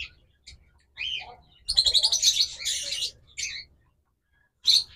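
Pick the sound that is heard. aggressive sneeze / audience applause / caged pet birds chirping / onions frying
caged pet birds chirping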